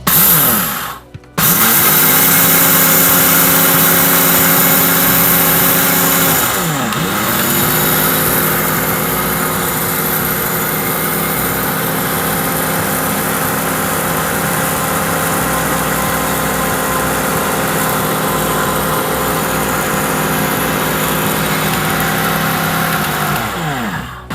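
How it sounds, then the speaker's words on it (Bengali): An electric blender grinding raw rice into powder: a loud, steady, high motor whine that dips and winds back up briefly near the start and again at the end, with no talk. "মাত্র তিরিশ সেকেন্ডে আমি চালগুলো একদম ভালো করে গুঁড়ো করে দেবো"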